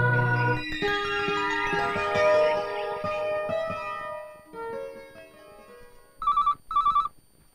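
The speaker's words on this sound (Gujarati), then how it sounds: "જો તો બેટા કોનો ફોન છે?" A telephone rings in two short, bright bursts near the end, following a stretch of music with layered instruments.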